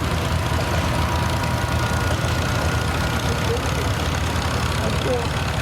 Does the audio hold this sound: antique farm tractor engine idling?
yes